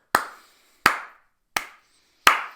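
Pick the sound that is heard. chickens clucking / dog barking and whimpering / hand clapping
hand clapping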